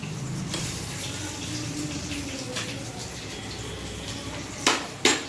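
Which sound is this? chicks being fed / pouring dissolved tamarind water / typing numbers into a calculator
pouring dissolved tamarind water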